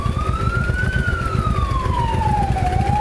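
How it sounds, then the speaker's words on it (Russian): Ambulance siren wailing at a motorcycle rally gate reserved for emergency services, a steady rising and falling tone held over a loud rumble of engines and crowd noise. "Вот сейчас как раз туда скорая и поехала."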